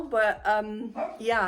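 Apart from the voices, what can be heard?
dog barking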